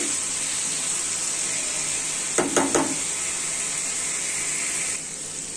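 Spiced potatoes fry in a pan with a steady sizzle, broken briefly by a few scraping stirs of a spoon partway through, cooking for alu dum.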